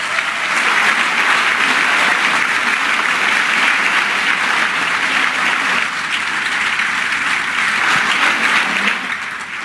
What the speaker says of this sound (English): these people deserve a huge round of applause